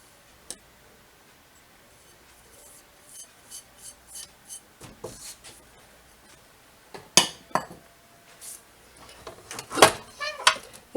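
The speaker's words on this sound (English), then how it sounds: "you just want to give this a little mix just so everything's all incorporated before we start doing anything" Dry ingredients of tapioca starch, white and sweet rice flours, flaxseed, salt and xanthan gum are stirred in a bowl, giving soft scraping and clinking utensil strokes in short irregular bursts against a quiet background.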